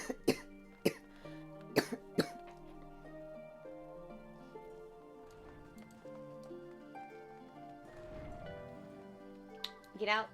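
A person coughs several times in short, sharp bursts near the start and again at the end, while game music plays softly underneath.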